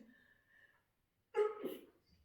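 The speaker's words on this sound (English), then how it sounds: "I'm going to sneeze." A single sudden burst of a sneeze during a workout, close and fairly loud, following a stretch of quiet breathing.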